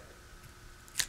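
Scissors snipping a plastic drinking straw in a single sharp, close cut after a moment of quiet room tone, with no talk.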